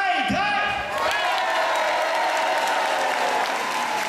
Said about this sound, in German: Aber ihr habt bezahlt, ihr müsst klatschen.